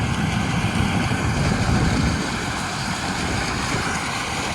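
Corn harvester engine with a worked-on or replaced motor roars in a loud, steady, broadband rush like a steam freight train, filling the whole stretch without pause, and nobody speaks.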